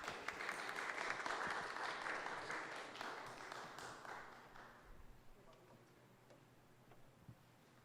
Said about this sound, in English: let's give our panelists a thank you round of applause